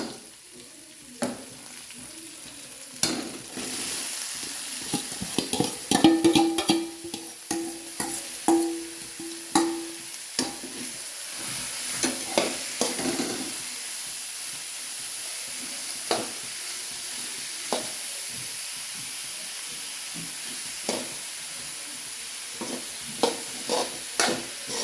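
Onions sizzling as they fry in a pan, with repeated scraping and stirring strokes throughout and a steady hiss underneath, close and fairly quiet with no talking.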